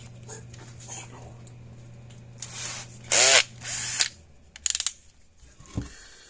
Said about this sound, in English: we're going to drill the rivets out here